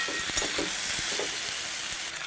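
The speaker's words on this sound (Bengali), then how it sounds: "একটু ভালো করে হলুদ দিয়ে নুন দিয়ে সবজিটাকে ভেজে নেব।" Chunks of potato, eggplant and drumstick fry in a pan with turmeric and salt, giving a steady hiss and sizzle broken by a few soft stirring knocks, heard close with no talking.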